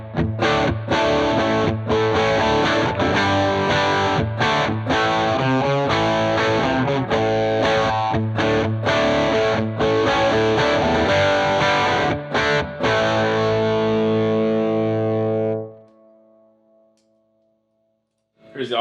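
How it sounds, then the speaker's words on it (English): Electric guitar through a Klon Centaur overdrive pedal plays a strummed chord riff continuously, warm and crunchy, then a final chord rings out and fades to silence. "Here's the Klon."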